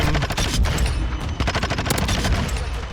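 Sustained rapid gunfire in Modern Warfare 2, dense overlapping bursts of automatic weapon shots, loud and close throughout with no voices.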